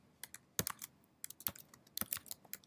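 Quiet computer keyboard typing comes in short bursts of quick clicks with brief pauses between, close and faint.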